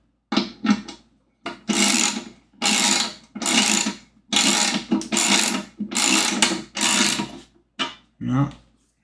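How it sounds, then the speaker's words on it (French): Ratchet wrench turning bolts on a Projelux Prabo 1 lantern, heard up close as a series of about nine loud, separate bursts of clicking mechanical ratcheting with short pauses between them. "je vais reprendre ça parce que ça fait un peu mal aux mains de tourner les boulons comme ça"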